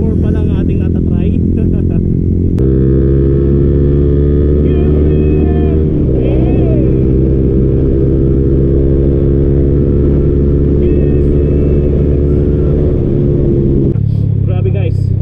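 A Yamaha MT15 motorcycle rides at high RPM in fourth gear, its engine drone holding steady and strong for most of the run, with a brief shift in pitch near the start and a voice talking over it at times.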